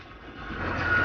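A forklift at a scrapyard sounds its reversing alarm, a single high beep emerging near the end over a low engine rumble that grows steadily louder.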